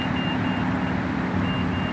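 Warning beeps from a ten-year-old, 145,000-mile Mitsubishi Outlander plug-in hybrid that does not detect the key, a faint repeated chime sitting under a steady hum of cabin and engine noise.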